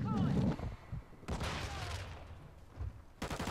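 Rapid automatic gunfire bursts in Call of Duty: Modern Warfare II, loud and close, with a long sustained volley at the start, another through the middle, and a final burst at the end, no talk.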